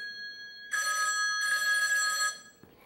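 A telephone bell rings close and loud in two bursts, then cuts off.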